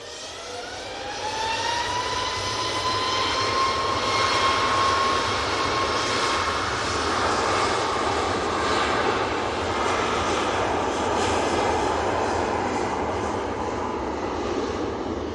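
Ryanair jet airliner taking off at Manchester Airport, a loud sustained roar with a rising whine building early and holding steady, heard from outdoors with no talking.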